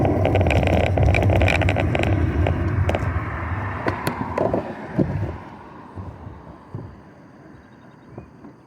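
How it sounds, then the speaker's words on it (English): A car engine running and rolling nearby, loud at first with wind buffeting and clunks, then fading steadily as it moves off, leaving quieter scattered bumps. "Car behind you, dude."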